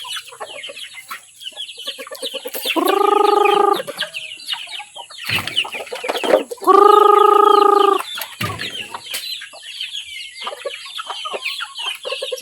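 Chickens clucking at a farmyard visit, with two louder, sustained bird calls standing out over a busy backdrop of scattered clucks and calls throughout.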